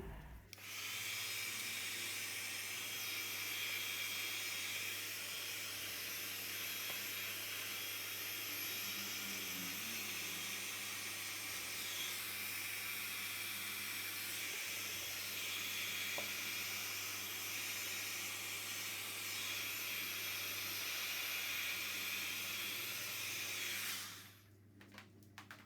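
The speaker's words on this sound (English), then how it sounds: "it's time to use my heat gun." A heat gun blows steadily over an acrylic pour painting, a constant broadband whooshing hiss with a low hum underneath, running unbroken for over twenty seconds before cutting off near the end.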